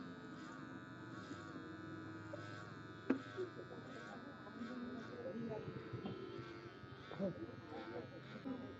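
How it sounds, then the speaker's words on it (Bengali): An electric hair clipper buzzes steadily as it cuts through heavily matted, dirty hair, a low continuous drone with occasional small clicks, under a voice talking. "মাথায় এত পরিমাণের ময়লা তার যে আসলে মেশিন দিয়ে কাটাটাও খুব কষ্ট হচ্ছে"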